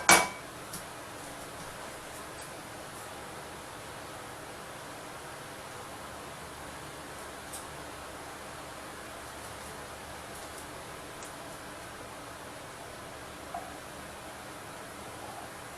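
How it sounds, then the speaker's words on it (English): Onions simmering gently in a pan, a faint, steady, soft sizzle that stays even and low throughout, with a couple of small clinks, close and without talking. "just let it simmer"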